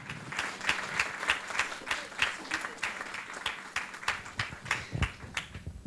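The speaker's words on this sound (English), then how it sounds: "And we can give them a big round of applause." Applause at an award ceremony, steady moderate clapping from a modest audience in a hall, individual claps distinct and rhythmic, fairly close and lasting several seconds, with faint murmuring beneath.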